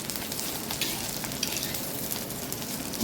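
Fresh coconut pieces frying in hot oil in a kadai with green chillies, a steady close hiss and crackle of sizzling that runs evenly throughout, with no talking.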